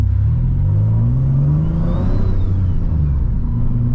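Turbocharged Nissan 370Z engine hums steadily from inside the car while driving, a low droning rumble with a gentle rise in pitch and a faint turbo whistle, no talking.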